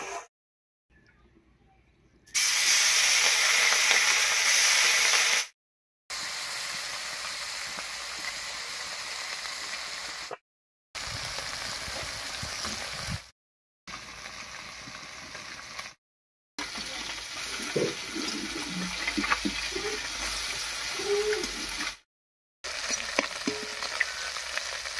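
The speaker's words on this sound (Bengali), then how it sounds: "তেল গরম হয়ে গেছে, এবারে মাছগুলো ভেজে নিচ্ছি।" Small fresh river fish, such as mola, frying in hot mustard oil in a kadai, with a steady close sizzle and crackle broken by short gaps and occasional stirring.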